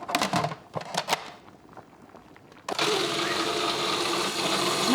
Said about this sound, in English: So I am ready for the blitzing.